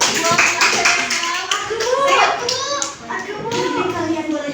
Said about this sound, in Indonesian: Boleh kasih tepuk tangan buat Kaisa.